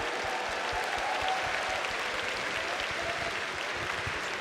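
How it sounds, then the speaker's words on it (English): A large crowd at the EVO 2022 fighting game tournament in Mandalay Bay claps and cheers in steady, dense applause that fills the hall continuously from start to finish. "I need another round of applause for you guys right here"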